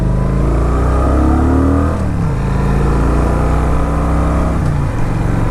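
A Kawasaki Vulcan 900 cruiser motorcycle being ridden on a highway and mountain road gives a loud, steady engine drone that is close and continuous, with brief pitch drops at gear changes and wind noise beneath.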